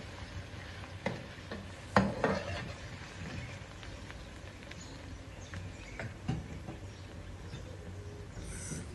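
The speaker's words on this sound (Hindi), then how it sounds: "मैं अदरक लहसुन के पेस्ट की इतनी बुनाई करूँगा कि अदरक लहसुन का जो कच्चापन है वो दूर" Ginger-garlic paste sautés in a pan for black chickpea pulao, with soft steady sizzling under occasional scrapes and knocks of a stirring spoon, up close.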